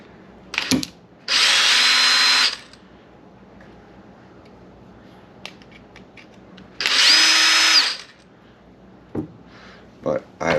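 Two short bursts of a power drill boring holes through the tie bars of a Traxxas Xmaxx RC car, each loud and lasting about a second, with clicks and faint handling noises in between.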